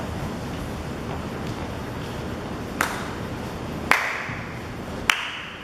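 Workout participants clap while doing sit-ups in a flashmob training session. Three sharp, separate claps land about a second apart over a faint steady background.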